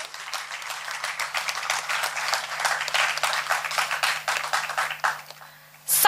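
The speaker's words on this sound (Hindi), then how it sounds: "आप सभी से अनुरोध है तालियों के साथ हमारे अतिथि गणों का स्वागत कीजिए।" An audience claps steadily in welcome of guests at a formal stage event, dense applause of many hands sustained throughout at moderate level, with a faint steady hum beneath and a brief louder swell at the very end.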